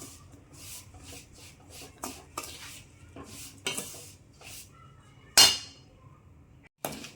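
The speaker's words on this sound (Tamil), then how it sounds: "நல்லா சிம்லேயே வச்சுட்டு ஒரு 2-3 நிமிஷத்துக்கு வதங்கட்டோன்னு சொல்லிட்டு அப்பப்போ இந்த மாதிரி கலரி கொடுத்துட்டே இருங்க" Rice rava roasting in oil in a pan, scraped and stirred with repeated short rubbing strokes in an uneven rhythm over a low background hum, with one sharper scrape near the end.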